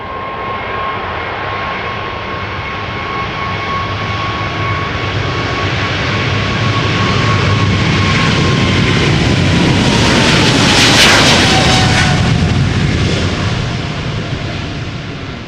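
A KLM Boeing 777 bound for Sao Paulo takes off from Schiphol's Polderbaan, a loud, sustained jet roar that swells toward its peak with a rising whine and crackle before easing slightly as it passes.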